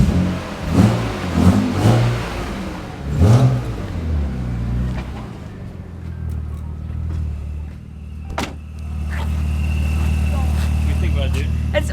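A BMW E36 M3 sports car engine starts up and revs, then settles into a steady low idle after some talking at the start.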